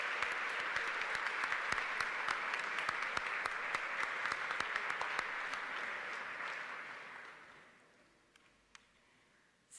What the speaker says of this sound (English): we are going to join in a round of applause for them right now to acknowledge their support